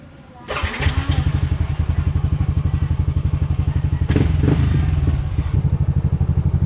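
Yamaha NMAX scooter engine fitted with an upgraded radiator, started and idling while warming up, a close, steady rapid putter with a brief rise in revs midway, loud and unaccompanied by talk.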